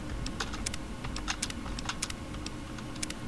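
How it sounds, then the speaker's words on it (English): Rapid, irregular clacking of a computer keyboard being typed on, close and fairly loud, continuing throughout with no voices, during character creation in Fallout: New Vegas. "Loud keyboard is loud."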